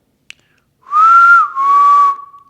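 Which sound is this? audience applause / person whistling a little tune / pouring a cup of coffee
person whistling a little tune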